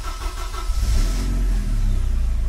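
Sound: Porsche 944 Turbo engine starting up

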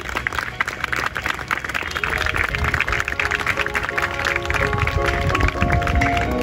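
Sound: applause for children at school sports day

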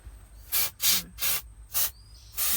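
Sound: aerosol spray being sprayed

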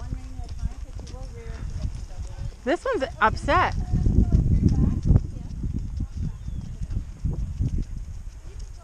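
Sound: horse hooves and movement

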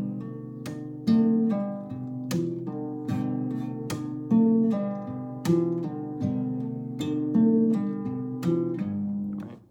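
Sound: guitar picking pattern for a song, pluck and pull-off

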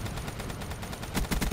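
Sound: gunfire from teammates in Call of Duty Black Ops 3 video game

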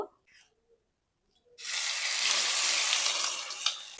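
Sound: ground green peas frying in hot mustard oil

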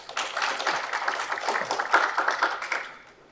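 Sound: audience applause at a forum

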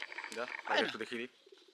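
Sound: pigeons cooing in a loft

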